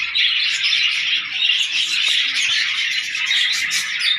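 Pet birds in a new home cage setup chirp and squawk continuously, a dense overlapping chorus of bright high-pitched calls, close and fairly loud, with no talking.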